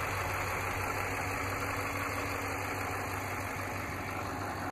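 A 2015 RAM 1500 Laramie Limited crew cab 4x4 with the 5.7-liter MDS Hemi V8 idles in a steady, unbroken low rumble that holds at an even level for the whole stretch, with no voices over it.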